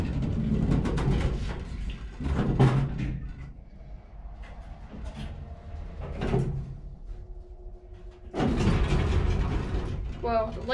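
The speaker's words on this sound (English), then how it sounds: "the elevator just jerked up" An Otis elevator travels and jerks upward, producing clunking mechanical knocks, rattles and ratcheting sounds, with quieter hums between bursts and a loud clatter near the end. Nearby, with some faint background voices.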